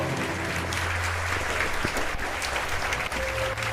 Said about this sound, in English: Our applause.